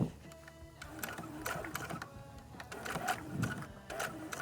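A sewing machine stitches the lining to the front bodice of a red crepe dress, a quiet, close mechanical whir with a steady rhythm of needle strokes.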